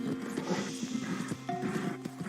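A horse in the Red Dead Redemption 2 video game snorts and whinnies while its hooves clip-clop steadily, a close and fairly quiet game sound with no talk over it.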